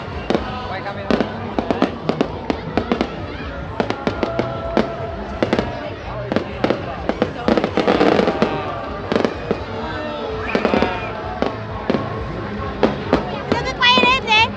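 Fireworks set off in Hai Duong, a dense run of sharp bangs and crackling bursts, some overlapping, loud and fairly close, with people talking throughout and crackle at the end.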